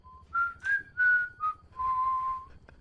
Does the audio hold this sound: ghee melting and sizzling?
no